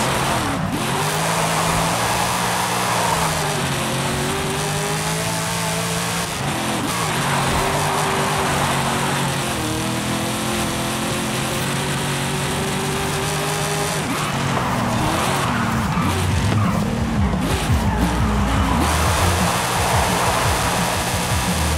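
A race car engine in a racing video game roars continuously at high revs with rising and falling gear-change pitch sweeps, tires squealing through corners, loud and steady throughout with no talk.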